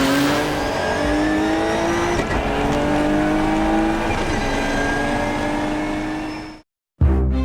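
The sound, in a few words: turbocharged Nissan GT-R R32 engine revving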